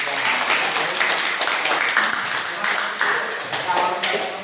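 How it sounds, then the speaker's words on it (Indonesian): Classroom applause for a student group, steady broadband clapping filling the whole stretch at moderate loudness with a few sharper individual claps and a faint murmur of voices underneath. "Oke, tepuk tangan buat kelompok 3."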